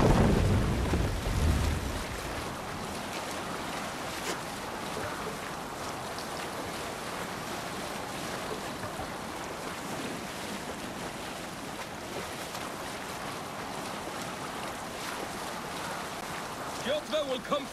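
A Viking longship under sail in Assassin's Creed Valhalla, with a steady wash of waves and sea wind running continuously under game ambience, a louder burst at the start and faint voices around it.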